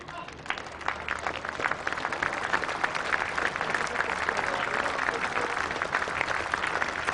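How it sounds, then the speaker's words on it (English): Applause from the Headingley crowd at a Yorkshire versus Derbyshire cricket match, a light, steady spread of distant clapping that carries on throughout, with a commentator's voice over it. "Smattering of applause from the knowledgeable Headingley crowd."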